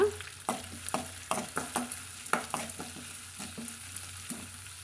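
A spoon stirs curry leaves frying in hot oil in a pan for a white pumpkin milk curry, with repeated close scraping strokes over a soft steady sizzle and no talking.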